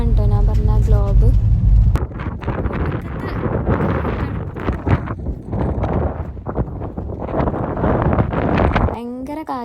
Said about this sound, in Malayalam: ഭയങ്കര കാറ്റാട്ടോ.